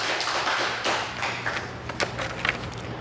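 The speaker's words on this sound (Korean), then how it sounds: "박수" A church congregation claps together after a sermon, a dense patter of many hands with a few sharper claps standing out, moderately distant and fading slightly.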